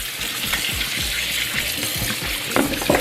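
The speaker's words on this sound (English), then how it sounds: "what I do with my meat is I wash it" Water from a tap gushes and splashes as raw meat is rinsed in preparation for Thanksgiving, a continuous close wash with small irregular splatters.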